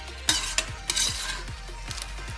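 Soya chunks and vegetables for a veg biryani stirred in a hot pan, with rhythmic scraping strokes about three per second over a soft sizzle and no talking.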